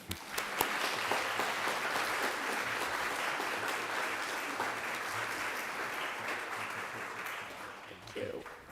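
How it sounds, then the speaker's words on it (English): A church congregation claps warmly during a Sunday worship service, sustained, even applause at moderate distance that fades near the end, with a brief voice breaking through. "So we can clap."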